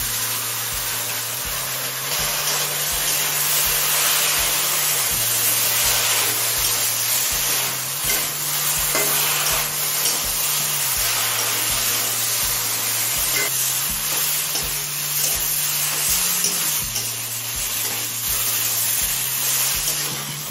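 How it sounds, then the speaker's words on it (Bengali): Okra frying in a pan with a paste of poppy seed and green chili, a steady sizzle that runs continuously, loud and close, with no talk over it. "পোস্ত কাঁচা লঙ্কা বাটা দিয়ে আরও মিনিট 5-6 কষিয়ে নিয়েছি"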